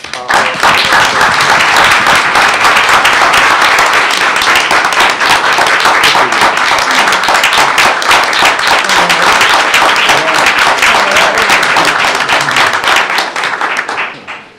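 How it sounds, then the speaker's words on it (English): An audience at a school board meeting award applauds in a loud, dense, continuous round of clapping that runs long before tapering off at the end. "I'd like for all of you to join me in a round of applause"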